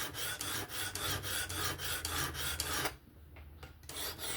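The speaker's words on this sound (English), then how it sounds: "the sharpener gets you used to this sound" A Work Sharp Professional Adjust sharpener grinds the 20CV steel blade of a Kizer October folding knife in rhythmic rasping strokes, close and steady, then drops to a quieter pass near the end.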